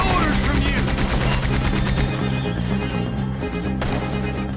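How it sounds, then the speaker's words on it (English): Gunfire rings out while shooting in the video game Red Dead Redemption 2: dense, rapid shots over a loud, busy mix with galloping hooves and horse sounds, steady and close throughout. "I'm shooting them."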